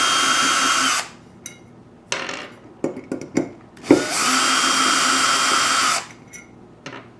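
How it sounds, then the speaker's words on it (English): An electric drill backs screws out of an aluminum faceplate in two long, steady whining bursts, with short clicks, trigger blips and handling knocks between them. "Now I'm going to cheat and use my electric drill here"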